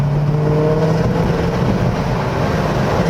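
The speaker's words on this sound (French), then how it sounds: "Oh, le bruit, la voiture, elle ronronne." A car engine runs close by, holding a steady low drone with a sustained hum. The level stays even for about three seconds, with no clear revving and no voices.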